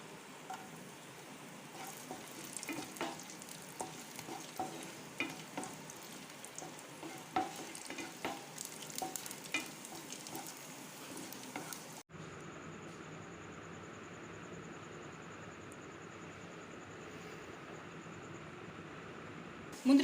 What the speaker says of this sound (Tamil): முந்திரி திராட்சையும் நல்லா பொரிஞ்சிருச்சு.